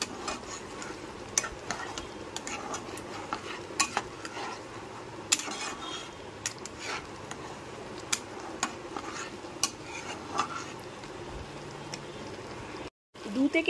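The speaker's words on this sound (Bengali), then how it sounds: "এবার এটাকে ভালো করে মিশিয়ে নেব।" Spoon scraping through spices in a pan for shahi paneer, a continuous sizzle with frequent sharp metallic clinks and scrapes, close and steady.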